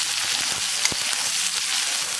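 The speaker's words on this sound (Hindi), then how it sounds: "अब प्याज डाल देंगे हम, जो एक प्याज मैंने बारीक काट के रखा था" Finely chopped onion going into garlic frying in a pan for a paneer methi sabzi, a steady dense sizzle with faint stirring taps, close and continuous with no talk.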